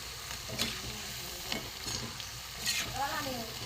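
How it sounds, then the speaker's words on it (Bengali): Raw banana pakoras deep frying in hot oil make a faint, steady sizzle, broken by a few stirring scrapes and clinks of a utensil, with no talk. "পকোড়াগুলো একটু ভেজে ভালো করে লাল করে নেব।"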